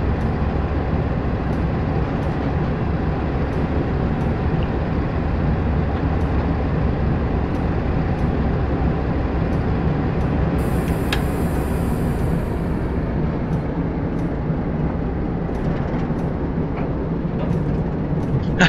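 Diesel milk train from Train Simulator 2015, a Class 47 locomotive hauling six-wheel milk tankers near Weston-super-Mare, rumbles steadily with a dense low engine drone and wheel noise, continuous and loud throughout, with faint occasional clicks.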